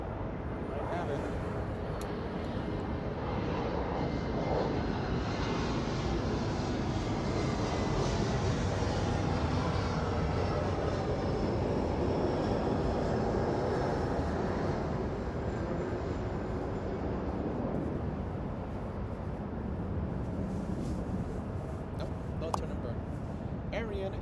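An Alaska Airlines jet airliner roars steadily at LAX, a broad, sustained engine rumble and whine that holds loud and continuous throughout.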